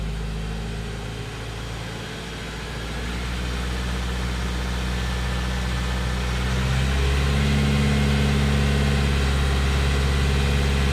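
A car engine with an EGR valve, tested with a diagnostic readout, idling and then rising steadily to about 2,000 rpm, a loud continuous drone that climbs and holds, with no voices.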